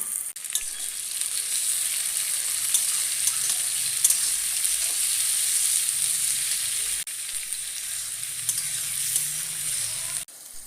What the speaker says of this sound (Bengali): পেঁয়াজ রসুন কাঁচা লঙ্কা সব দিয়ে দিলাম এটাকে ভালো করে নেড়ে নেব